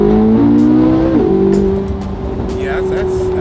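A Corvette C8 accelerates at partial throttle, its engine drone climbing steadily in pitch, dipping briefly at a gear change, then pulling on loudly from inside the cabin.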